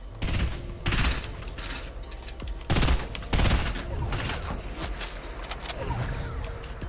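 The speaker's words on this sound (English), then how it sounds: "Oh, I just got shot at." Gunfire in a video game sounds in rapid bursts of shots over a steady background rumble, loud and close, with no talking.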